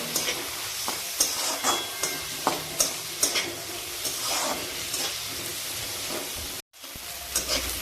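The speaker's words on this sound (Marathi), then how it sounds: "आता हे सर्व आपण चांगलं परतून घेऊ।" Crushed garlic, onion and chopped tomato sautéing in a pan, a steady sizzle broken by repeated scraping stirs at a regular pace, close and fairly quiet, with a brief cut near the end.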